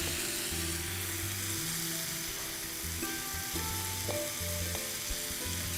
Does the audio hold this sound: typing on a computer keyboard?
no